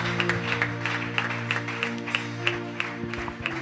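A church congregation in Brazzaville claps in steady rhythm to acclaim the Lord, the sustained applause carrying over held musical tones with a lively crowd feel throughout.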